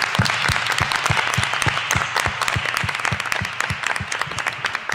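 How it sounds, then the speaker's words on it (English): Audience applause fills a board of education meeting room in Highland Park, New Jersey, steady and fairly close, with individual claps standing out in a regular rhythm throughout. "Give him another round of applause"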